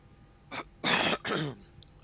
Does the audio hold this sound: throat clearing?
yes